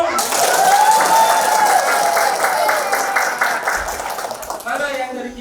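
A crowd at a community volunteer training event applauds the Sumedang volunteers, the clapping loud and sustained under a speaker's voice and tapering off toward the end.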